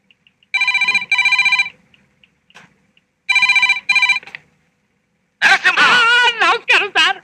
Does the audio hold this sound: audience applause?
no